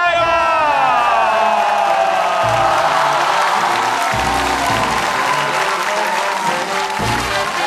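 A studio audience at a television comedy variety show applauds Ada Choi, loud and sustained, with cheers and whoops mixed in and voices talking over the clapping.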